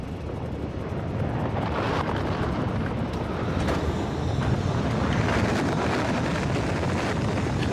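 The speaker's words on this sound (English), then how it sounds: "Rocket is going." A rocket lifting off in the factory game Factorio with the Space Exploration mod, heard as a steady, loud, broad roaring rumble that swells slightly and holds without a break.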